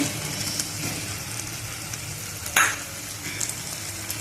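Onion and tomato fry in a pan for a Maharashtrian brinjal curry as spices go in, giving a steady close sizzle with a brief stirring scrape partway through.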